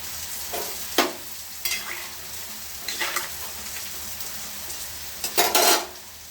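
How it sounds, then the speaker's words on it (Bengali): Bitter gourd slices frying in a pan, steady sizzle of oil broken by several bursts of spatula stirring and scraping against the pan, close and with no speech. "উচ্ছেটা ভাজা হচ্ছে।"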